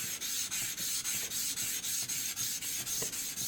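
A small correcting and cleaning stone rubbed over a whetstone, a steady repeated rasping scrape in short even strokes, close and alone.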